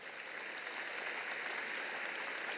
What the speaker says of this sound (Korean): 여러분 한꺼번에 우리 박수 한번 쳐주실까요?